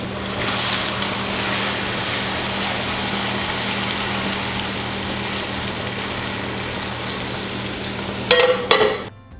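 Hamburger, beef broth and cream of mushroom soup heat in a pan with a steady low sizzle and bubbling, plus a faint hum underneath, ending in a few louder clatters near the close.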